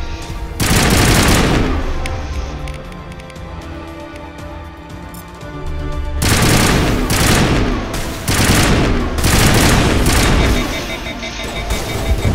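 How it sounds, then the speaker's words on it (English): Heavy bombardment and gunfire in the Mass Effect video game, dense continuous bursts of rapid shots and booming impacts, loud and close, with a short lull before the barrage resumes. "I'm getting bombarded here."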